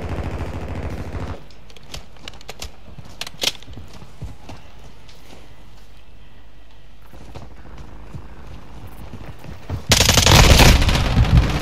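Gunfire in the Modern Warfare 2 video game on Xbox Series X: scattered shots and bursts, then a loud, dense stretch of rapid automatic fire near the end, with no voices.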